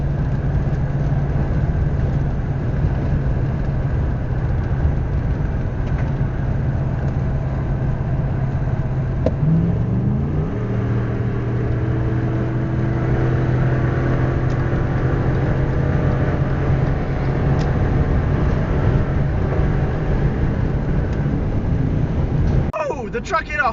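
A pickup truck with nearly 100,000 miles drives along the road, its engine a steady low drone with road rumble inside the cab, and the pitch shifts partway through.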